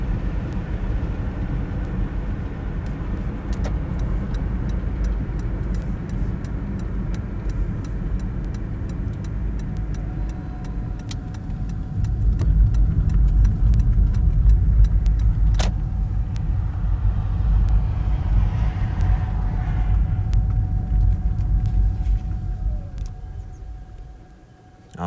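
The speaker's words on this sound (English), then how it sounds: "I like that old school car." An old-style car cruises along the Extraterrestrial Highway in the Nevada desert, a steady low engine and road rumble that swells louder midway, then fades toward the end, with some faint tonal whines above.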